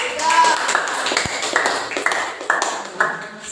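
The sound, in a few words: class applause for a group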